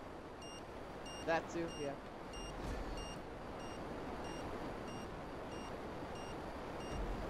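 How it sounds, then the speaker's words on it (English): Regularly spaced electronic warning beeps in the game GTA Online, a steady repeating pulse about twice per second running throughout at moderate level over vehicle rumble, with a voice speaking briefly. "Why am I beeping?"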